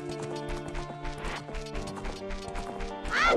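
Music from Ocarina of Time plays with rhythmic clip-clopping horse hooves and a few thuds, ending in a short whinny-like squeal.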